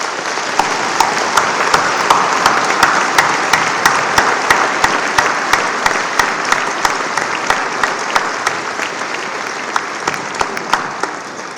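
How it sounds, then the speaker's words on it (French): Sustained audience applause fills a hall at a municipal New Year's wishes ceremony, dense steady clapping from a large crowd with a few louder near claps standing out, continuing evenly without talk. "et je vous demande de tous les applaudir."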